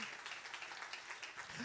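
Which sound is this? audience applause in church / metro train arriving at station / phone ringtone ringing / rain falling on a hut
audience applause in church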